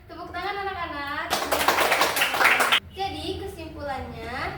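Children in a classroom clap their hands in a dense burst of about a second and a half, set between stretches of an adult voice talking.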